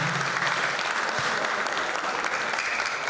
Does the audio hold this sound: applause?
yes